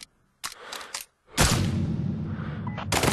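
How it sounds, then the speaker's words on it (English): Gunshots in Sniper Ghost Warrior 3: sharp, loud reports come first, then a heavy blast with a long rolling decay and another shot at the end, all without talk. "Shots nearby!"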